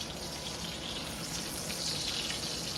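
A bacon, shrimp and veggie stir-fry with ginger and garlic sizzles steadily in a pan as it is stirred, a dense, even hiss heard close and alone.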